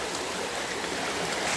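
Water rushes steadily at a dam, a dense, continuous broadband flow heard close and fairly loud with no voices.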